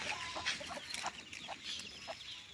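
Chickens clucking in short, scattered bursts, fairly close, over a steady outdoor background with some bird chatter.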